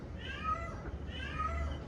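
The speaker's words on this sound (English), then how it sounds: "Doesn't that sound like a little kid, that cat?" A cat meows twice, each call a drawn-out, child-like wail, outdoors and moderately near, with a faint voice in the background.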